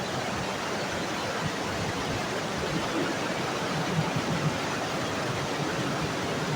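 Water gushes hard and steadily from a cold-water outlet turned up to full flow, a dense, continuous rushing roar that holds an even loudness throughout with no voices.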